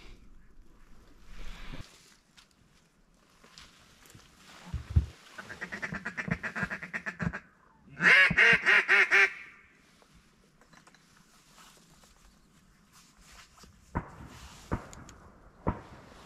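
A rare duck quacking on a duck hunt opener, a run of loud, close, rapid quacks in the middle of the clip, preceded by softer calls and scattered thumps.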